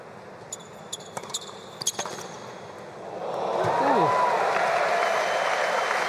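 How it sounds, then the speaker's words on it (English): A crowd at a United Cup 2024 tennis quarterfinal breaks into applause about halfway through, after a few sharp ball strikes and court sounds. The clapping swells and stays fairly loud to the end. "Some applause from her opponent there, Garcia."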